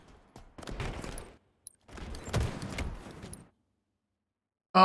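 Video game gunfire rattles in two bursts of rapid shots, each lasting about a second, separated by a pause, then a brief loud sound at the very end.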